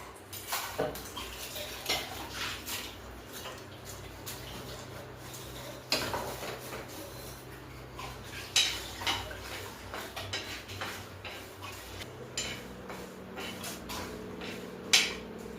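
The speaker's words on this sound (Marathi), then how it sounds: "तर बघा आता मी मिरच्या भाजून घेणार आहे" Dry pan roasting of chillies: a spatula scrapes and clinks against metal in irregular bursts, with occasional sharper knocks, close and fairly quiet.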